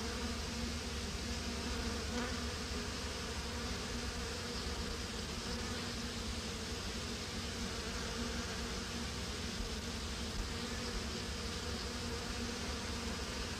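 Lemon bees (abelha limão) swarm inside their nest, a continuous dense buzzing hum at steady volume throughout, with no voices over it.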